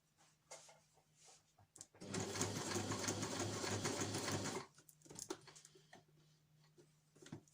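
A sewing machine stitches fabric for a reusable snack bag in one loud steady run of rapid needle chatter lasting a few seconds, with soft handling clicks and taps before and after.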